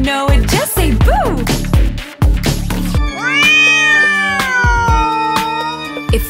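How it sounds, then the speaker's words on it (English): A cat meowing in a Halloween nursery rhyme, several loud, close, drawn-out meows with rising and falling pitch, some overlapping, clear and prominent over a light musical backing. "If you're a black cat and you know it, just say meow."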